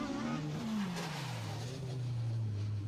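Rally cars, one front-wheel drive and one rear-wheel drive, swing round a tight hairpin on handbrake turns at a circuit stage rally, with a loud, sustained engine note that falls in pitch as the car slows, plus tyre scrub.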